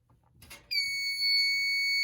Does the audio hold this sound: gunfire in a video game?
no